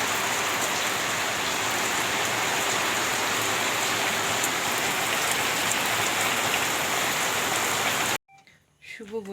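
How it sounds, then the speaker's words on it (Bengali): Heavy rain pours down steadily in a loud, dense, continuous wash, then stops abruptly near the end, where faint voices follow. "তো দেখো একদম পুরো ঝমঝমিয়ে পুরো একদম বৃষ্টি হচ্ছে।"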